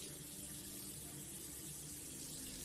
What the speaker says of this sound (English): I turned on the faucet.